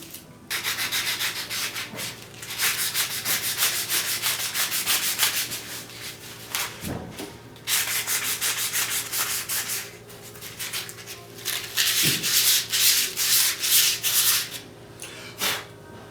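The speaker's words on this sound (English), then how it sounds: "We'll take the sandpaper." Sandpaper rubs over the channel selector dial of a 1949 television set being restored, a close, continuous scratchy sanding in repeated strokes with brief pauses and a couple of light knocks.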